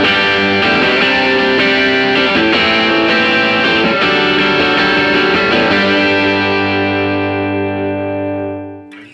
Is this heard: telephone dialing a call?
no